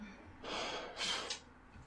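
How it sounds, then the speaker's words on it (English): A terrified man breathes heavily, two or three sharp, close gasping breaths in quick succession over quiet background. "all you can hear in this clip is just him breathing"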